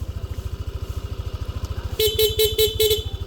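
Yamaha Aerox V2 scooter idles with a steady, throbbing engine pulse. Its aftermarket PIA horn then fires in rapid mode, giving about five quick, loud, close beeps in a row over the running engine.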